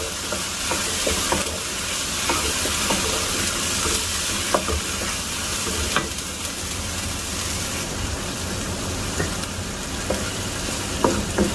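Penne pasta in pesto sauce cooks in a pan with a continuous close sizzle and hiss, punctuated by occasional light clicks and stirring scrapes, with no one speaking.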